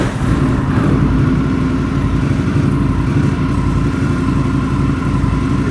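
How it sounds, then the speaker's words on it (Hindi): A superbike engine, a Triumph, Indian or Kawasaki, idles steadily in a Delhi showroom with a loud, continuous, slightly uneven throbbing rumble close by and no talking. "चलो फायर अप करते हैं"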